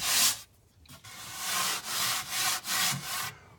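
A hand rubs back and forth over wood carrying a rough first coat of polyurethane, giving a series of close, scratchy, sanding-like strokes with brief pauses between them.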